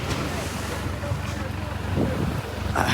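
Ocean waves roll in toward the shore at Poonthura beach, a steady broadband wash with wind buffeting the microphone and a swell building near the end; faint voices murmur beneath.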